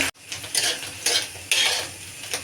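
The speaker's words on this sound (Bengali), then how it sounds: "ডিমটা ভালো করে ভাজবো" Oil sizzles steadily as an egg fries in a wok while a utensil scrapes and stirs in several bursts, close by.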